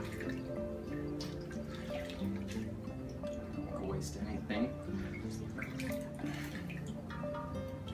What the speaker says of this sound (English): So I'm gonna wring it out and try to get as much water as possible out of the leaves before I go to cut this.